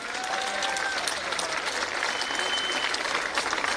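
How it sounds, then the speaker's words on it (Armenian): Audience applause for a campaign team at an election rally, a dense, steady wash of clapping from a crowd that holds at even loudness throughout without a break. "ծափարենք այս մեր գեղեցիկ թիմին։"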